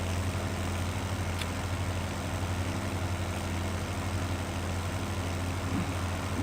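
A 5150 tractor from the Modern Classics DLC in Farming Simulator 17 idles with a steady, loud, low engine drone. The hum stays constant throughout, with no talk over it.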